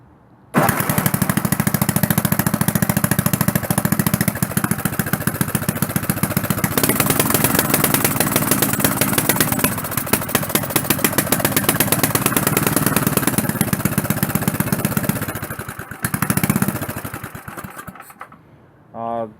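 A snowblower engine runs after startup with a loud, rapid, steady putter, close by, shifting pitch partway through before cutting out near the end; a voice is faintly present.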